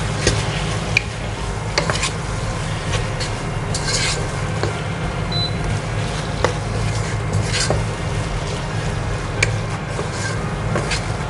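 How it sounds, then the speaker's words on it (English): Mutton mince stirred in a pan with turmeric and salt, alongside onions, ginger and garlic, a steady soft scraping and rubbing of a spoon against the pan under a faint sizzle, with occasional light clinks. "Now I'll mix this really well."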